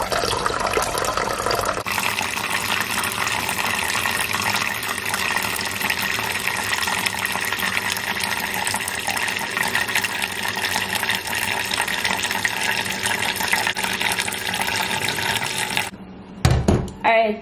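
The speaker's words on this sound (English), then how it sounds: "I'm going to just catch the water now, put on the water" Water runs steadily from a tap in a continuous rushing stream, then cuts off near the end with a few clattering kitchen sounds.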